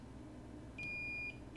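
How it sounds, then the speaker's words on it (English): A steady electronic beep from a multimeter continuity test on an iPhone 6 circuit board sounds for about half a second, followed by a brief second chirp, over a low background hum. "And we get a beep across, so yes, he does."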